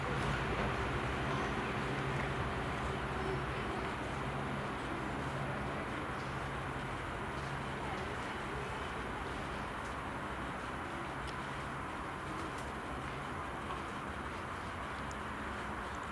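A train rumbles past near Sarn Tondu in Wales, a broad steady roar with faint tonal hum throughout, moderately distant and unbroken by talk.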